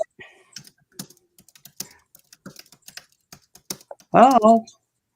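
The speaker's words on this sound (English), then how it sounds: "are you typing?" Rapid clicking of computer keyboard keys in quick irregular bursts during a live-streamed talk show, with a short voiced sound near the end.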